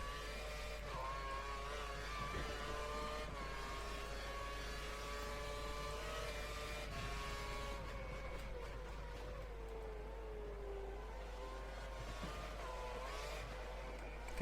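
Formula One race car engine from F1 2013 on the Australia practice session, a steady high-pitched whine rising and falling with gear changes, loud and continuous with no talk.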